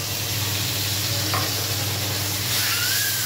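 Shrimp and chopped onion fry in a little oil, giving a steady close sizzle throughout with a brief stirring scrape partway in; no voices.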